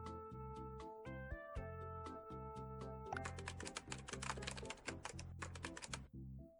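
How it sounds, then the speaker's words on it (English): Keyboard typing effect from the mobile runner game Decor Dash, a thin, dated-sounding clatter of rapid keystrokes laid over a looping synth music track, the taps growing denser in the second half. "that audio for the keyboard typing sounds old"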